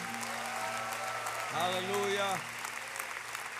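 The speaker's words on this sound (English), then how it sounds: "Let's give him one big hand clap offering." A church congregation gives a steady hand clap offering, a dense wash of clapping that carries through while a voice calls out in worship.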